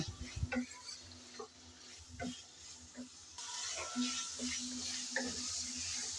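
Cut potatoes fry in hot oil with a little turmeric and salt, making a faint, steady sizzle broken by light clinks and scrapes of a spatula stirring them in the pan, with no voices.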